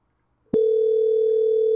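A steady telephone line tone hums continuously after a click, loud and unbroken, as a number is dialed on a phone system.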